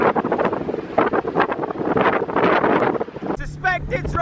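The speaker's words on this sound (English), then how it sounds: "Suspect it's rather windy." Strong gusting wind buffets the microphone with a loud roar on a boat heading into Norwich, followed by a brief voice near the end.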